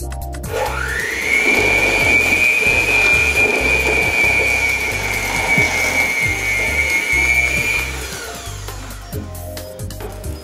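An electric mixer beats banana bread batter as the first half of the dry ingredients goes in, a steady high motor whine running for several seconds over low rhythmic thumping before easing off.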